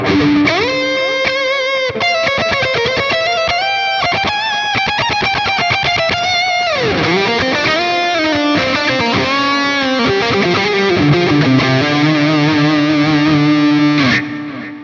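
A heavily distorted electric guitar through a full Line 6 Helix metal/djent preset without a noise gate plays dense chugging riffs and sustained bent notes, loud and unbroken throughout, with no talk.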